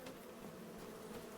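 Bees buzzing around hives on a farm in Farming Simulator 25, a steady faint drone heard from a distance, continuous and even with no talking.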